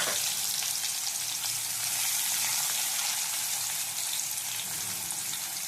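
Small shallots fry in hot oil for a kadaknath chicken curry. The bright sizzle crackles steadily and close without pause, and no one speaks.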